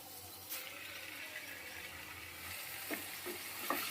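Potatoes, pointed gourd and soybean sautéed together with spices in a pan, a quiet continuous sizzle with occasional scraping stirs near the end.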